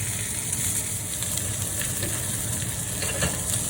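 A prime rib roast sears in a hot pan, pressed down for an even crust, giving a steady, close, continuous sizzle and hiss with no talking.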